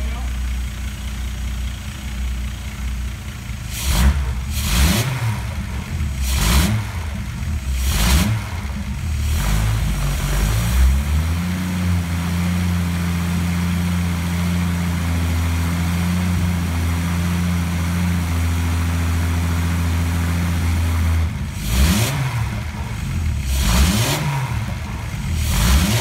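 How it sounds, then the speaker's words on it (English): A 1960 Jensen 541S car engine idles steadily, is revved several times in sharp blips, holds a steady raised drone for a while, then takes a few more quick revs, loud and close. "Rev it, Dom."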